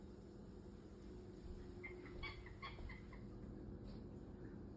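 A goose calls from just outside a house door, giving a few faint, short honking notes in a brief cluster over a steady low background hum.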